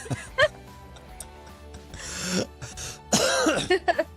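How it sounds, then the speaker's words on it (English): Several harsh coughs and throat-clearing sounds burst out close to the microphone, rough and uneven, separated by brief quieter moments. "I cough right in the microphone now"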